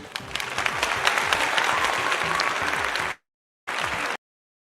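An audience applauding to welcome a speaker onto the stage at a parenting session, dense steady clapping that cuts off abruptly and then returns for a short burst.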